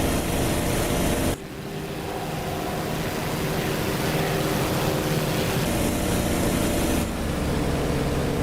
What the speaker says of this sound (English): That is a really good sounding airplane. I like the engine noise.